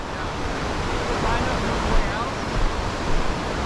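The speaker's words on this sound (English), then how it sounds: "I'm going to go get up close to a big waterfall." A big waterfall roars in the Ohanapecosh Falls gorge, a steady, dense rush of falling water heard close up, with no breaks and slight swells in loudness.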